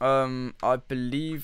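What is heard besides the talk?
None of the usual background noises is heard.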